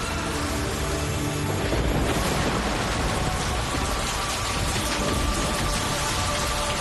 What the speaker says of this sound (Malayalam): മഴയുടെ ശക്തി കൂടുകയാണല്ലോ